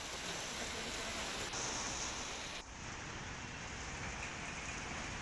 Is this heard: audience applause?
no